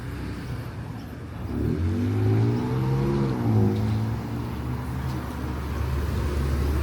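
City bus on route 719 pulls away, its engine revving up with a rising, then falling hum over steady road and traffic noise, close by and fairly loud.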